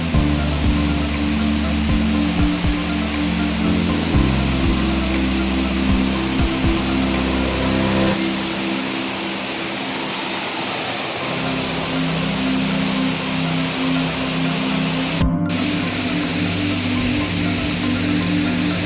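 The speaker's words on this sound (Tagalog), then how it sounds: "ito yung pangalawang waterfalls" The second waterfall at Maynuba-Cayabu in Tanay, Rizal, pours in a loud, steady broadband rush that stays constant throughout, heard close with no talking.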